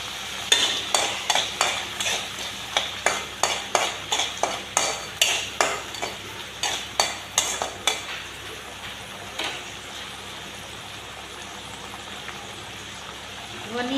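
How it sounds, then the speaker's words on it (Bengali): Seeds fry in hot mustard oil while a spoon stirs them in quick, regular strokes, each one a clear scrape. The scraping stops partway through and leaves a soft, steady sizzle. "সর্ষে তেল গরম করে নিয়েছি, তেলের মধ্যে দিয়ে দেব বীজগুলো"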